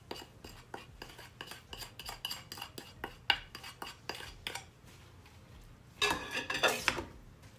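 Spices and herbs being stirred in a cooking pot for Jamaican rice and peas: quick series of quiet metallic clinks and scrapes of a spoon against the pot, then a brief busier burst of scraping.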